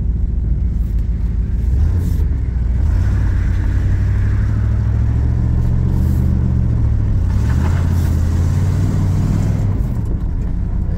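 Step side truck engine rumbling and revving up close, a low steady drone with rising and falling pitch swells as it pulls away, continuous for the whole stretch without talk.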